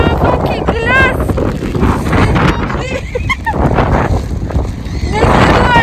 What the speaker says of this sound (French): Pire que tout, il y a un vent qui glace.